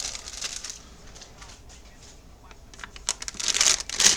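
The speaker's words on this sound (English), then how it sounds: "sorry, crinkling." Plastic packaging on an older Gunpla model kit (Sazabi) crinkles close to the mic in soft rustling patches, getting louder and sharper toward the end.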